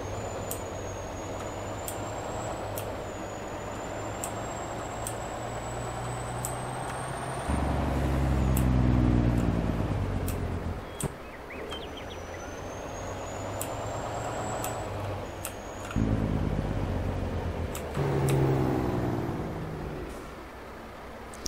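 A truck in Farming Simulator 22 slows with bursts of air brake hiss and engine rumble, loud and close, with strong low roaring stretches and sharp high tones, no talking.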